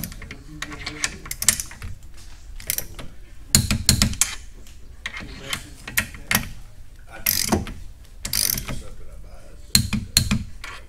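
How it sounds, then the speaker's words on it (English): Ratchet wrench tightening 12 millimeter M10 bolts during a suspension part install in a garage, giving quick rapid clicking bursts and metallic rattles at close range, with gaps between strokes. "We're going to tighten the 12 millimeter bolts to 42 foot-pounds"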